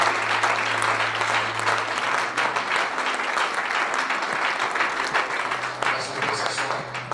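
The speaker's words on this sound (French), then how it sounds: "We clap for your presence." A church congregation at a Sunday service claps together in sustained, dense applause, loud and close, with a voice speaking faintly beneath it.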